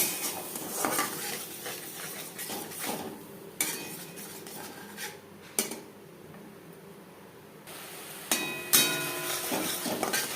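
A metal spoon scrapes and clatters against a pan while spices are sautéed with a little water for a light summer fish curry, giving irregular sharp knocks and clinks over a faint, soft sizzle. No one speaks.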